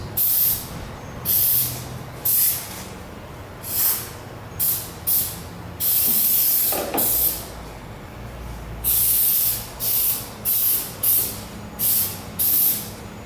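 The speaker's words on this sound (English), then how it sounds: "So we'll spray the hinges, fenders." Repeated bursts of hissing rustproofing aerosol spray on car hinges and fenders, short and sharp, coming in an uneven rhythm close to the microphone.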